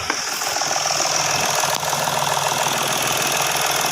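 A Mitsubishi Mirage engine with a starting fault idles steadily at close range, a constant mechanical hum with a faint rhythmic tick running through it.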